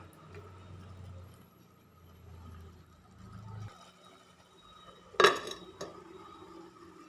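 A metal lid clanks down onto a pot of cooking prawn roast, one sharp close clatter with a smaller knock after it, against a quiet kitchen and a low hum that stops partway through.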